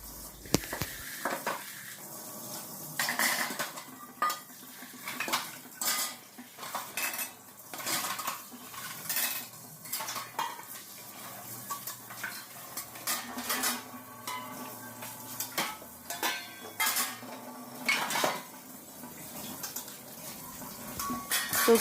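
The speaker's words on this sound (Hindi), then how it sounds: "तो यहाँ पे बर्तन भी मैं धो लेती हूँ।" Dishes, cutlery and pots being washed at home produce constant clinking, scraping and clattering, loud and close, with occasional bangs of pans and no talking.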